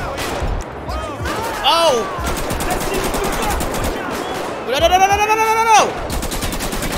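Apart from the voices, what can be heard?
gunfire from undercover cops in video game Grand Theft Auto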